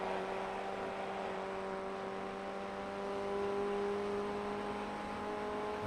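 A Ray FF1600 race car engine drones steadily under throttle at Lime Rock Park in the iRacing sim, a sustained tonal whine with a slight rise in pitch, heard alone and without talk.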